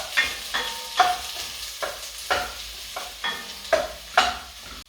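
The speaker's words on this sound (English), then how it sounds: "we're going to fry off the onions" Onions frying in mustard oil for a pork vindaloo, with a steady sizzle broken by repeated scraping stirs of a spoon in the pan, about eight strokes spread evenly, close and moderately loud, no talking.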